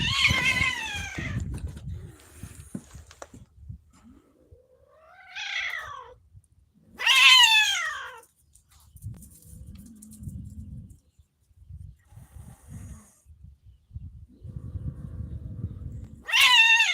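Two cats, one a small black one, trade drawn-out, rising meows and caterwauls at close range. The yowls come in separate bursts with quiet gaps, low rumbling growls and rustling between them.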